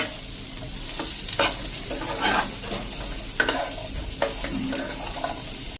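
Onions and carrots sauté in a pan while being stirred, giving a steady close sizzle with frequent scraping strokes of a spoon against the pan and no talking.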